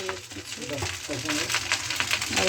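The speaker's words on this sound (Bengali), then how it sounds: "অনেক কিছু দিয়ে ভাতটাকে ভাজা হচ্ছে" Rice stir-fried like fried rice in a pan with spring onion, peas, beans, cauliflower and onion, a steady sizzle with scraping stirs, overlaid by faint background voices.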